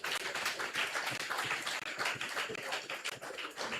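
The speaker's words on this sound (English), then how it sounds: "Please give them a round of applause." Applause from a town hall audience at a hurricane recovery meeting, a fairly quiet but continuous patter of many claps heard from a distance.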